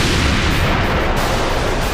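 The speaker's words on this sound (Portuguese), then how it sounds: "E o que vem em seguida é a destruição, uma explosão com raios gigantescos" A massive explosion with giant lightning bolts in a One Piece anime episode as Saint Saturn arrives at Egghead: a loud, continuous roaring blast that fills the whole moment without letting up.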